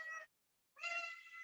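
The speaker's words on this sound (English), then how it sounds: "my cat" A cat meows twice in quick succession, the first call short and the second longer and drawn out, both clear and close with a brief silence between them.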